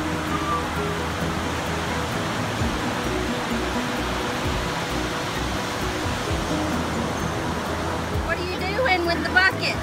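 Steady broadband wash of beach surf at Jetty Park, a continuous near roar of breaking waves with no distinct gaps, with faint voices of people talking over it near the end.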